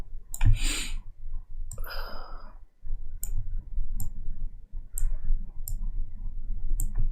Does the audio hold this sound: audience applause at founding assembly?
no